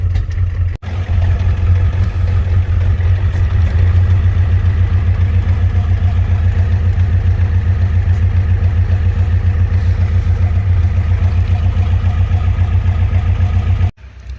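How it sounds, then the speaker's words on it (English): A 1990 Ford F-250 with a 7.3 IDI diesel idles close by, its low, even clattering rumble holding steady throughout before cutting off abruptly at the end. "I'm gonna find myself a high idle stick so this thing can idle up a little bit here."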